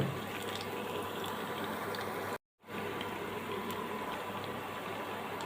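Arabic-style falafel deep-fries in hot oil until reddish-brown on both sides, giving a constant close, even hiss that cuts out for a moment midway and then resumes.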